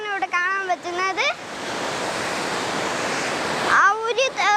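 Kattara waterfall in a forest near Puthukkulangara roars loudly and steadily for a few seconds, a dense, continuous rush of falling water, with someone speaking just before and after.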